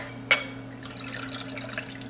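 Ginger tea poured from one jar into a mason jar filled with ice gives a soft, faint liquid trickle with a small clink at the start, over a steady low background hum.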